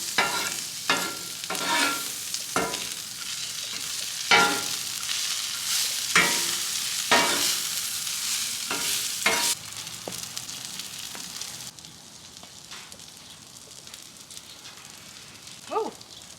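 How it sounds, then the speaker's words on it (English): Butter and burger buns sizzle loudly on a Traeger Flatrock griddle, a close, steady crackling hiss broken by repeated sharp scraping and spatula knocks. The sound drops to a quieter sizzle near the end. "So I'm gonna throw down some butter and get these on the griddle."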